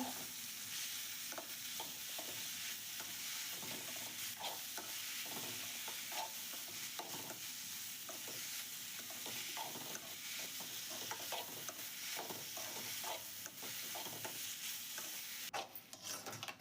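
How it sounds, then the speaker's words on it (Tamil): Tomatoes sauté in a pan for bitter gourd curry, a continuous quiet sizzle broken by frequent scraping stirs, with no voices. "தக்காளி போடுறோம் தக்காளி நல்லா வதங்கினோடனே"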